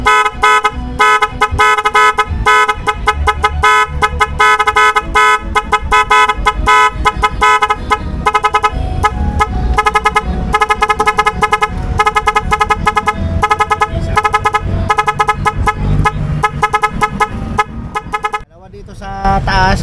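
Several loud aftermarket horns fitted to a 2024 Yamaha Nmax V2 scooter blare in a continuous, harsh multi-tone blast lasting most of the time before cutting off near the end.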